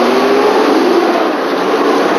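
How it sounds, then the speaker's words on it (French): A car engine revs and pulls away during unrest in Côte d'Ivoire, a steady loud broadband roar with a faint rising tone that holds throughout, with no voices. "Un coup d'accélérateur, nous repartons."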